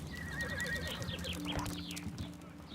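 A horse in a Sherlock Holmes video game neighs and whinnies in a drawn-out call, with hoof clip-clops and background ambience, no talking.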